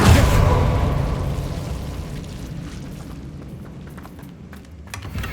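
Confringo explosive spell blast in Hogwarts Legacy: a loud boom at the start that rolls into a long, slowly fading rumble of debris and crackle, with small pops near the end.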